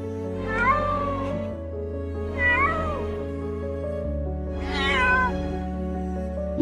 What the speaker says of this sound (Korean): 정말 어려운 상황에 빠진 고양이입니다